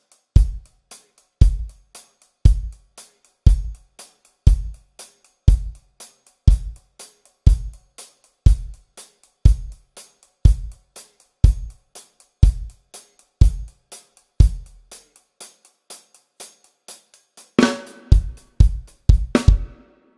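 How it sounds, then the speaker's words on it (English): Drum kit playing a breakdown section: steady evenly spaced bass drum hits with cymbal or hi-hat strikes, then a denser burst of crash cymbals and fills near the end, heard alone without talk. "So the whole breakdown section would sound like this."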